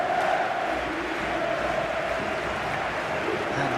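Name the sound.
stadium crowd in football video game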